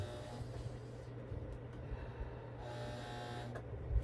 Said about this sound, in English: I'm going to go down through here and sew this side.